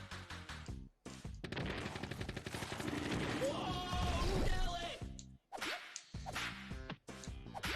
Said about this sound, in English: I have to be able to hear Pete when I hit him with the whip.